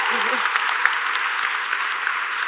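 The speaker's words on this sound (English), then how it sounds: "an applause to that" Audience applause fills an award ceremony honoring endometriosis advocates, a steady, dense wash of clapping throughout with faint voices mixed in.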